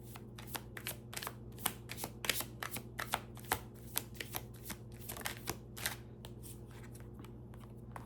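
Tarot cards are riffled and shuffled in a steady run of crisp, rapid bursts, close and fairly quiet over a constant low hum, thinning out near the end.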